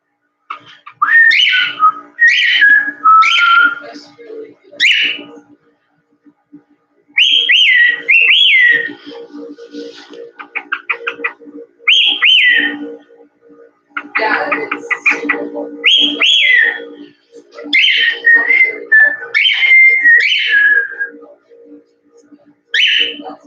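A pet bird whistles in repeated bursts of rising and falling notes, loud and close, with short pauses between phrases, over about twenty seconds indoors.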